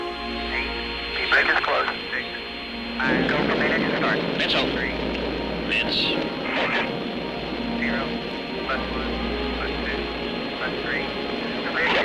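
The Space Shuttle Columbia launches as a continuous low roar beneath radio-style launch-control voices and a narrator talking, moderately loud throughout.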